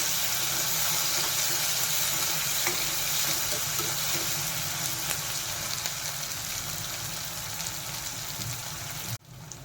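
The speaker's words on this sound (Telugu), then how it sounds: "బాగా ఎర్రగా వేగాలండి. ఈ కర్రీకి మాత్రం ఎంత వేగితే అంత బాగుంటుంది." Minced mutton keema frying in a pan gives a steady, dense sizzle heard up close for almost ten seconds, then cuts off abruptly just before the end.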